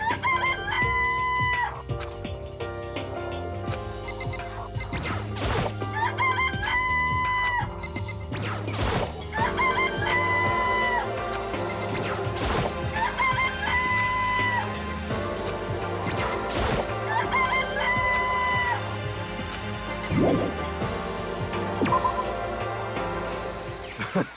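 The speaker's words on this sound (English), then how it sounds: "Oh, you like chickens too, Makoto?" Video game chickens cluck and a rooster crows in repeated bursts over busy background game sounds and music, with no one speaking.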